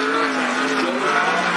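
A sprint car roars at Cottage Grove Speedway during a 2011 American Sprint Car Series national tour race, a steady loud high-revving engine drone without breaks; the car is Randy Washburn's, from Jetmore, Kansas.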